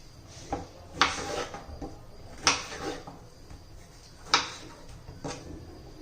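A knife chops fresh ridge gourd into small pieces on a board, sharp woody thuds landing in an irregular rhythm of about five clear strikes with softer taps between, close and alone.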